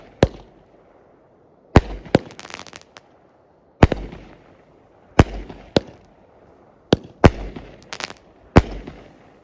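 A consumer fireworks cake from an ammo crate assortment fires outdoors, sharp loud pops and cracks arriving in irregular clusters across the clip, with faint rumble between bursts and no talking.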